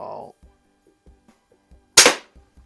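A rebuilt Diana model 6 air pistol fires a single sharp, loud crack near the end, standing alone after a short burst of talk and a few faint mechanical clicks.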